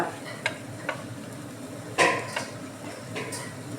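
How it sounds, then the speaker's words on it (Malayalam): Turmeric, coriander, chili powder, garam masala and black pepper are sautéed in a pan for chickpea curry, with a few scattered spoon scrapes and clinks over a low, steady sizzle. "അതൊക്കെ ഒന്ന് പച്ചമണം മാറുന്ന വരെ വഴറ്റി കൊടുക്കുക"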